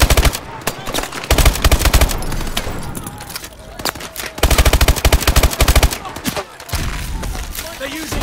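Medium machine guns rattle in Call of Duty: Advanced Warfare during the Traffic mission, loud sustained automatic bursts with breaks between them, while game voices shout over the gunfire.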